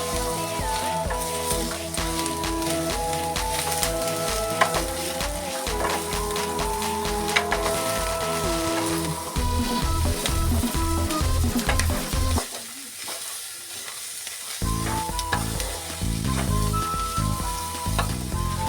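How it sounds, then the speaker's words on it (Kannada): Chicken chops fry in a pan while being stirred, giving a loud, continuous sizzle with scraping stir strokes throughout and tonal background sound underneath. "ಒಂದು 5 ನಿಮಿಷ ಹಿಂಗೆ ಬಾಡಿಸ್ಕೋಬೇಕು ಎಲ್ಲ. ಎಲ್ಲ ಮಿಕ್ಸ್ ಮಾಡ್ಕೊತಾನೆ ಇರಿ."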